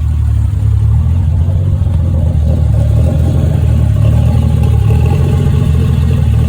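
A Triumph TR6 engine runs at its first start after a rebuild. The throttle is held and the motor revs with a loud, close, rumbling drone and some mechanical clatter, steady for several seconds.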